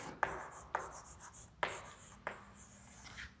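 Marker or chalk writing on a board during a demography lecture, several distinct strokes with sharp starts and scratchy trails, close and clear in a quiet room, no talk over it.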